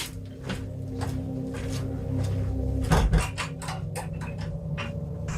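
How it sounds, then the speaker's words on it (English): Door latch being fastened at night, a series of sharp metallic clicks and knocks spread over several seconds, with a louder clunk midway, against a low background hum. "Now you heard me put the latch on the door there."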